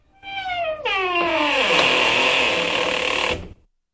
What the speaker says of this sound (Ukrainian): Скрипнули двері